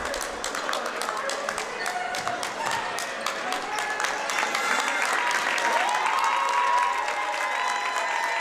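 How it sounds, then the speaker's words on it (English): Home fans at a high school boys basketball game, Notre Dame Irish at Hightstown Rams, applaud a player checking out: a broad, sustained crowd clapping with scattered cheers and voices mixed in, rising slightly toward the end. "Steischer Methelier checks out and gets a huge round of applause from the Irish faithful who attended tonight."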